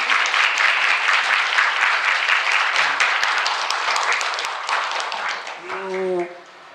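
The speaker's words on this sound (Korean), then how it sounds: "저 박수 한번 드리도록 하겠습니다" An audience at a Korean village book concert claps for the attending authors. The steady applause is fairly loud, then fades, and a voice speaks briefly near the end.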